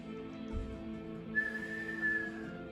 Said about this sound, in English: Didn't mean to whistle.